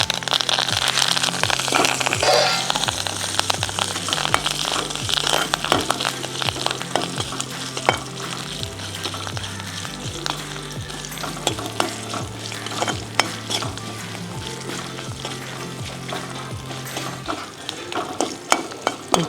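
Curry leaves frying in hot oil for a tempering with mustard seeds, fennel and dried red chillies, a loud steady sizzle with crackling pops and stirring scrapes running throughout, no voices.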